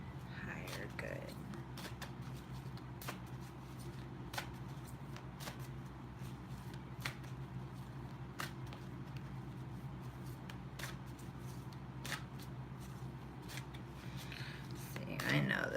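Tarot cards shuffled by hand, a run of soft riffling bursts and taps repeating at uneven intervals over a low background hum, fairly quiet and close.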